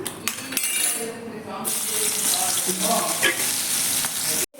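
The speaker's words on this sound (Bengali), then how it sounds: "এখানে পেঁয়াজ কেটে রেখেছি এগুলো সরু সরু কাটা হয়ে আছে পেঁয়াজগুলো ছেড়ে দিচ্ছি" Thinly sliced onions hit hot oil with an abrupt loud burst of sizzling that stays bright and continuous, preceded by a few clanks and a brief quieter moment, then cut off at the end.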